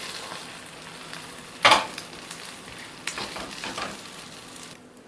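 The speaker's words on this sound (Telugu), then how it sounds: "ఇప్పుడు దీన్ని ఇలా ఇంకో వైపుకి ఫ్లిప్ చేసుకోవాలి" An egg omelette sizzles in a hot frying pan, a steady frying hiss broken by a sharp burst of spatter as it is flipped, then lighter scraping and crackling continuing alone.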